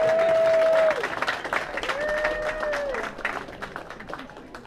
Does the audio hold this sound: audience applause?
yes